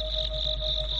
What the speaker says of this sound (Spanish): ¿No te parece que los grillos cantan muy fuerte esta noche?